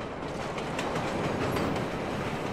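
A train rushes past in the metro level of the Splinter Cell Blacklist video game, a loud, steady rumbling roar with faint rhythmic clatter and no voices.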